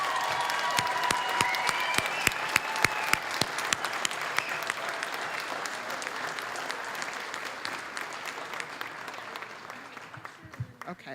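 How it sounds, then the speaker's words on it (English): Audience applause for Grand Rapids Community College medical assistant graduates at their ceremony, a full sustained round of clapping with sharp individual claps standing out early, gradually thinning and fading toward the end. "Please, let's give them a round of applause."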